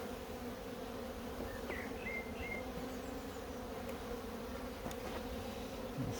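Honeybees buzzing steadily around a hive during beekeeping, a dense continuous drone with a few individual bees passing close, no talk.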